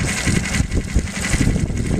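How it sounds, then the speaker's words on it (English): A boat motor idles in neutral with a loud, steady rumbling drone and a slightly uneven throb, close by and alone. "take the engine way down, put it in neutral"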